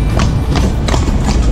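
Horse hooves clip-clop in a steady rhythm as a horse-drawn carriage rolls through the streets of Jerez de la Frontera, four distinct strikes over a constant background hum.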